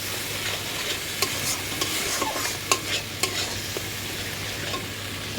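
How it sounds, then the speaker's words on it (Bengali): Jackfruit and potato chunks sautéed with salt, turmeric and spices in a pan, with a steady sizzle and a scatter of sharp spatula clicks and scrapes close by, no voices. "এখন এটা কষাবো এঁচোড়টা দিয়ে আর আলুটা দিয়ে একটু কষাবো"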